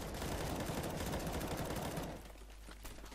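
Shotgun fire in CS:GO, a dense, loud, noisy burst of gunfire that drops to a quieter rattle after about two seconds, with no talking.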